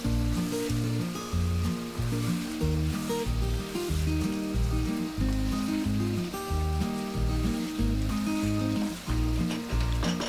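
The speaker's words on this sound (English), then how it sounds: "and cook it until the oil separates." Chicken curry with curry leaves and ghee sizzles and fries steadily in a pan. The hiss is continuous and close, with music playing underneath.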